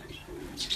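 A racing pigeon home from the Rochester race gives a soft, brief coo, faint and close, over quiet room noise.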